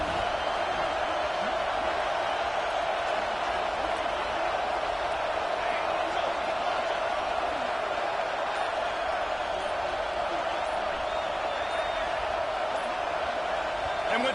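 A loud, dense stadium crowd roars steadily at a packed football game on a decisive fourth down, the noise constant and close with no clear pauses.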